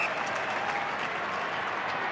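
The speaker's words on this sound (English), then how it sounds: "A little applause there" Applause from the stadium crowd at an Australian football match in Brisbane, Sydney playing away: a dense, steady wash of clapping that holds for about two seconds, broad and fairly distant, with no voices standing out.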